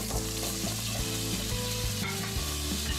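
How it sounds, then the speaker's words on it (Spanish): Potatoes frying in hot oil in a cazuela previously used for frying meat, over high heat, a loud steady sizzle with bubbling and occasional stirring clatter, close and unbroken, no talk. "Una vez caliente el aceite ponemos las papas."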